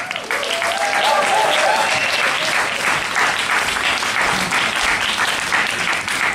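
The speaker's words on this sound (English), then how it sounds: "make some noise for Edd Mayhew." A comedy-show crowd claps loudly and steadily, with some cheering and whooping over the sustained applause.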